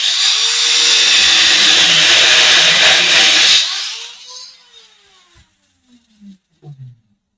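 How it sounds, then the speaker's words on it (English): Loud power grinding runs steadily for several seconds, then spins down and cuts off. A few scattered hammer knocks follow in the quiet that comes after. "Could all of you hear the grinding and the hammering?"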